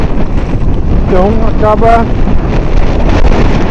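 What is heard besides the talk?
strong wind on river during kayak trip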